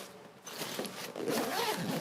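A percussion kit bag holding a snare drum top is zipped shut, giving a close, rasping zipper pull lasting about two seconds.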